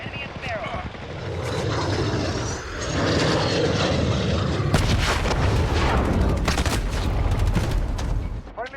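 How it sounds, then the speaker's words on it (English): A VTOL aircraft engine roars overhead during a Call of Duty: Modern Warfare multiplayer match, a loud sustained rumble that swells and grows under sharp bursts of gunfire and explosions. "Friendly VTOL on station for Overwatch"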